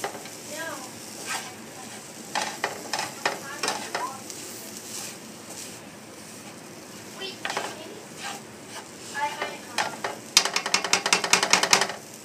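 Meatless veggie crumbles frying in a pan for baked spaghetti, a low sizzle with frequent stirring scrapes and clinks of a utensil against the pan, and a few brief voices.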